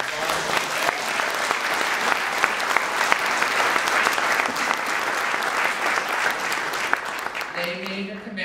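Sustained round of applause from an audience at a police officer and firefighter of the year awards ceremony, dense and steady for about eight seconds before thinning out as a voice begins near the end.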